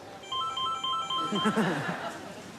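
A telephone rings with a repeated electronic trill in short bursts, fairly faint, before voices and soft laughter break in over it.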